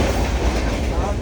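Train running on rails toward Lonavala, heard from inside a carriage: loud, steady rumbling wheel and rail noise filling the whole clip with no pause.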